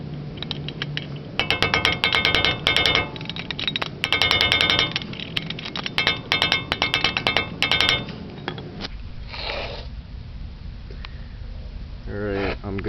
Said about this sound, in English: you should smash in the nut up here by this groove in the axle